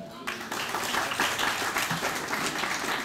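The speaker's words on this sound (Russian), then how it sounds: "Вот сейчас похлопаем." A studio audience at a Russian TV game show breaks into sustained applause, dense steady clapping filling the room after a brief quieter moment at the start.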